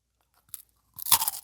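Close, crisp crunching as a squid-flavored coated peanut snack is bitten: a small first crack, then a louder cluster of brittle crunches and chewing in quiet surroundings.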